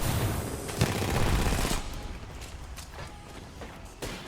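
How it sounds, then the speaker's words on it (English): RE-45 pistol fire in Apex Legends: a rapid burst of sharp shots early on, then scattered lighter shots and impacts, moderately quiet within the game mix. "Electra able to do a little bit of damage here with the RE45"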